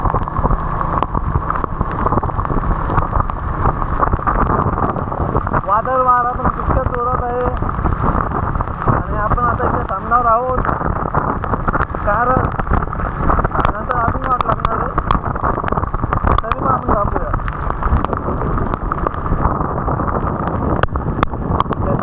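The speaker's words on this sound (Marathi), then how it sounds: "मुसळधार पाऊस" Heavy monsoon rain pours on the Mumbai–Nashik highway at Bhiwandi in May, a dense steady roar with wind buffeting the microphone, heard from a moving vehicle while people talk intermittently.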